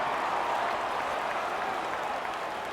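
Stadium crowd roaring in the College Football 26 video game: a broad, steady wash of cheering and applause, loud and sustained without a break, with no clear voices standing out.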